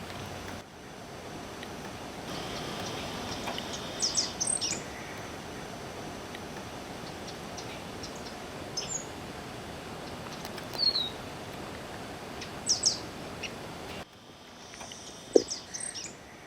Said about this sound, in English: Oh, he sang right over me. Five-striped Sparrow.